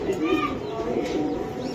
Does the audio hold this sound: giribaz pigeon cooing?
yes